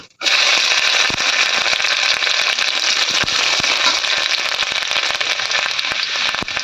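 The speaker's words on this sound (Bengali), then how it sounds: "এখন মা দিয়ে দিচ্ছে রসুন কুচি" Chopped garlic hits hot oil with cumin for a dal tadka, giving a loud, steady broadband sizzle and crackle that holds strongly from start to finish with no talking.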